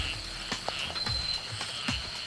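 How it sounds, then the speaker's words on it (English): A Wallace flying frog croaking beside a stagnant pool, giving several short, faint, scattered clicking calls spread over a few seconds amid an ambient night-time chorus and a thin insect whine. "Been hearing it ribbit."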